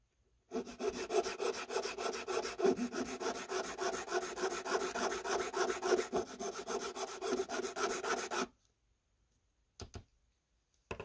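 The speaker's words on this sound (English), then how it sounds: "so let's try filing it. I'm just gonna file it this way probably." A hand file works a small part for an LED ball build, a close, steady rasping of quick back-and-forth strokes lasting about eight seconds, then silence broken by two faint short scrapes, with no talking.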